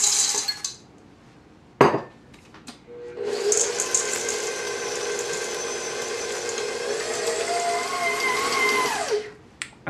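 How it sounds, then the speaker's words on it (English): An electric mixer with a whisk attachment mixes chocolate chips into gluten-free flourless cookie dough, whirring steadily for about six seconds after a few brief clatters, with no talking. "so we're gonna mix in the chocolate"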